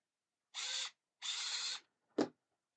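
Two sustained whirring bursts of a small electric screwdriver driving screws into the engine manifold of a Fanhome Michael Schumacher F1 2000 scale model, followed by a short sharp click, close up and alone.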